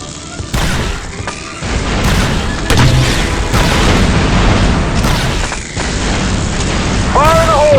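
Explosions from a thrown charge in the 2005 Star Wars: Republic Commando game, loud repeated booms and bursts with battlefield clatter running throughout, briefly dipping before resuming.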